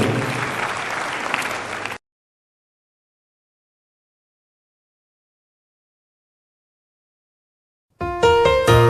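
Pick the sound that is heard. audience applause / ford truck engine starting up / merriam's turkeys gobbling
audience applause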